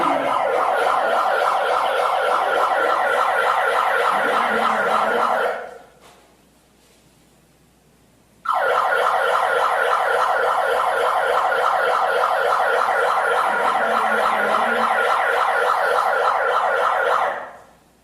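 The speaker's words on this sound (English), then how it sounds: "come back with a bullhorn and blare an obnoxious siren for 7 minutes" A loud, harsh siren blared through a bullhorn on a sidewalk wails steadily for several seconds, cuts out briefly to near silence, then blares again just as loud and continuous.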